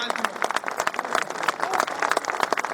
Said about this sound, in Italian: E vorrei un grande applauso da parte del pubblico per i nostri volontari